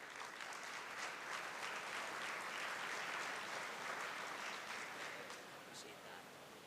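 A round of applause at a university awards banquet for a campus pastor, a sustained wash of many clapping hands, fairly distant and steady, tapering slightly at the end.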